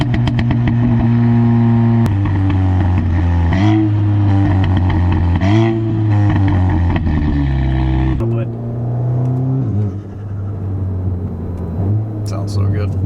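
Tuned 400 hp Audi S3 with a burble tune, turbo and atmospheric dump valve, its loud exhaust droning and rising and falling through gear changes, with popping burble and flutter, close and continuous while a voice talks over it.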